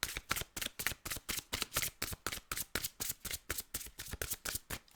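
Tarot cards being shuffled for a clarifier draw, a steady run of quick riffling bursts repeating rhythmically, close and crisp, with no voices.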